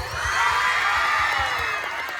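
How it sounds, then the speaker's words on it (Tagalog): A crowd cheers and whoops loudly, shouts blending into a dense, continuous roar with some rhythmic clapping underneath. "pwede bang isang palakpakan na may kasamang hiyaw naman dyan?"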